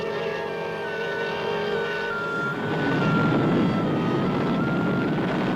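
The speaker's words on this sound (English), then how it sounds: "A plane from the outside world is landing." Plane engine drone as an aircraft comes in to land, a continuous loud roar with steady tonal whine that grows rougher and fuller midway, close and unbroken.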